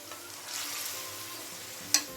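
Chicken pieces browning with onions in a pan for a spinach chicken pulao, giving a soft steady sizzle with faint stirring and one sharp clink near the end.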